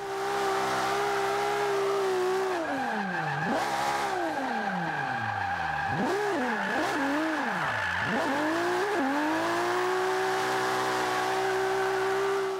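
A Nissan 240SX (RPS13) drifts in Forza 5 with a handbrake entry, its engine droning loudly and continuously while revs rise and dip sharply through the slide, with tire squeal and no talking.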